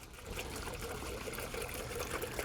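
Water trickling and splashing onto soil in a newly planted raised bed of fall vegetables, a steady close pour with no talk.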